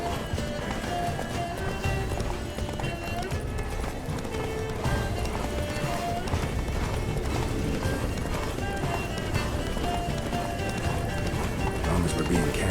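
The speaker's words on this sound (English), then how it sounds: "Run, Roach" A horse gallops in The Witcher 3 Wild Hunt, rapid steady hoofbeats running throughout over continuous game ambience and music, with occasional voices talking.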